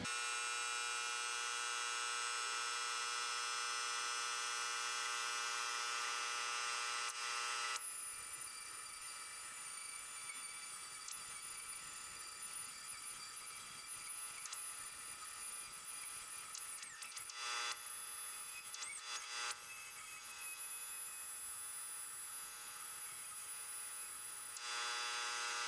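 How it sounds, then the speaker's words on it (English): A Dremel rotary tool cuts small slots into metal door parts from a 1964 VW bus double door, a steady high-pitched whine running for most of the stretch with brief dips, starting after a quieter opening. "So we'll just set up the Dremel quickly and get that done."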